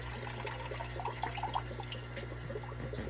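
Water pours into a fish tank in a continuous trickling splash, steady and moderately close, with a faint low hum underneath.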